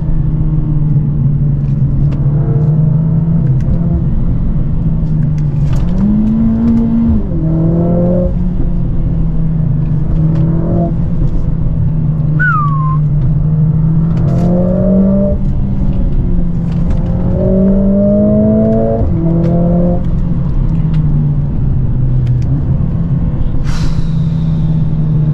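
A Mercedes CLA45 S AMG engine roars loudly and continuously, with repeated rises in pitch as it accelerates through gear changes under steady road rumble.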